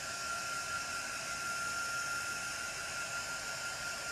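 A dryer blowing air onto a freshly painted craft door tag, a steady even hiss and whirr held at constant loudness with a faint tonal whine, no voices.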